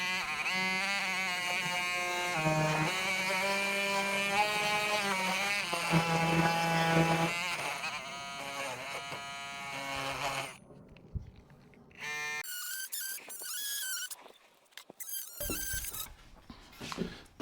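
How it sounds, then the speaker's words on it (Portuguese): A power tool chamfers the corners of wood during a cargo trailer window installation, giving a loud, wavering high whine for about ten seconds, then stopping, followed by scattered quieter knocks and handling noises. "Agora eu vou só chanfrar aqui os cantinhos para poder encostar lá bem atrás."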